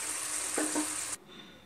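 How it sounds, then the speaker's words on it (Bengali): Bhola bhetki fish curry bubbling in a pan on a gas stove gives a steady, close sizzling hiss with a couple of soft stirring bumps, then cuts off abruptly. "দেখুন আপনারা ফুটতে ফুটতে ঝোলটা কিন্তু অনেকটাই কমে এসছে"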